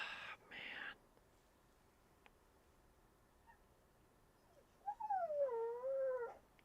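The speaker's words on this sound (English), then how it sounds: "If you heard the puppy, he is very sad about his squeak toy." A puppy, sad over its squeak toy, whines in a quiet room: a faint short whimper, then a rising, wavering, drawn-out cry near the end.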